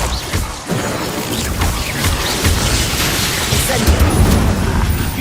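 A fiery Incendio spell blasts in the Hogwarts Legacy video game, giving a loud, dense roar of burning and impact noise that holds steady, with battle effects mixed in.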